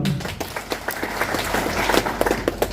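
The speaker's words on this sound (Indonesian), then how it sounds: "tepuk tangan dulu dong" Clapping from an audience at a business seminar, a moderate patter of hands with uneven bursts, fairly near and medium loud, no clear speech over it.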